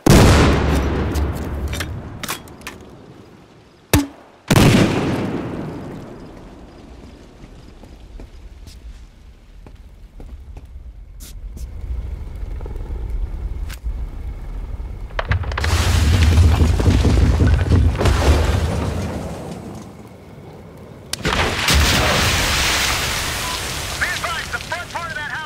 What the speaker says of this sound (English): 2 shots each from a grenade launcher should take out the column